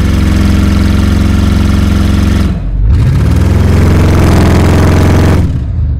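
Audi RS6 engine and exhaust with the silencer deleted, a steady loud low rumble that dips briefly and returns, holding a constant drone like idling or held revs on a dyno.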